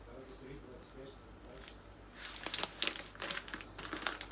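A plastic packet of sunflower seeds crinkles close by, soft at first then in louder, sharper bursts of rustling, with a voice faintly present.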